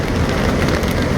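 Rain falls steadily on the river at Angat, Bulacan, near a bridge under repair, a dense, loud, even hiss and patter with no voices.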